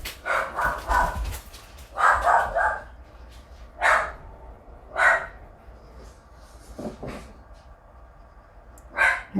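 A female dog barking indoors at home, loud, sharp barks in quick bursts that recur every second or two, close by with no talk over them.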